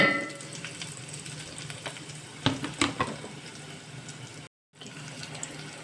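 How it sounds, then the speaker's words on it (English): Gentle, low sizzling of ginger and garlic frying on a slow fire, with a few sharp clinks and scrapes of a utensil midway and a brief dropout near the end. "Ginger garlic is getting fried on slow fire."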